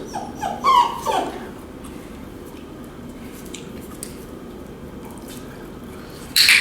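A bulldog beagle mix puppy gives brief, high whimpering whines, one short cluster near the start and another at the very end, with near silence in between.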